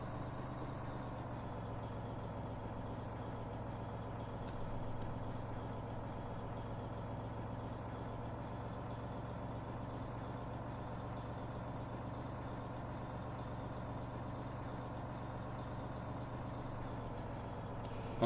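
A truck in Farming Simulator 17 pulls in to unload sugar beets, its engine holding a low, steady drone with a constant hum and no noticeable change in pace.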